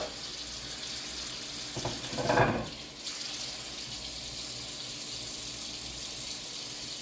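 Tap water runs into a kitchen sink over fresh green beans being rinsed, a steady hiss with a brief louder splash of water hitting the beans midway, close by.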